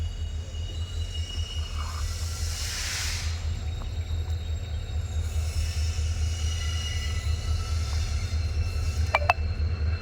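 A train rumbles past a closed level crossing gate steadily with a low, continuous roar and hiss, a brief metallic squeal near the end, no voices.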